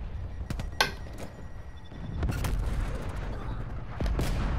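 Gunfire from an MP5 submachine gun in Call of Duty Cold War, heard as a few separate sharp shots spaced over several seconds, close and fairly loud over low game background noise.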